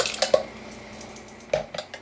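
Canned diced tomatoes tipped into a salsa bowl, two short clusters of clinking can-on-bowl taps and soft wet plops, separated by a pause, close and fairly quiet.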